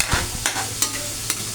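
A utensil stirring food as it fries in a pan, with a few distinct scraping strokes over a low, steady sizzle, close by and fairly quiet.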